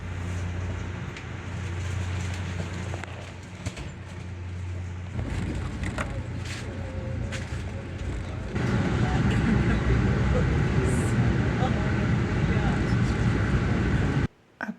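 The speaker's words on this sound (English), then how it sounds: "I catch an Amtrak train north." A continuous low rumble of an Amtrak passenger train rolls on, growing louder and rougher partway through, with faint voices underneath and a sharp cutoff at the end.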